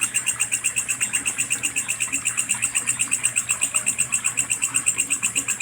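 Crickets chirp at night in the countryside of a rural province: a steady, fast, pulsing high-pitched trill repeats evenly throughout, close and fairly loud, with no voices.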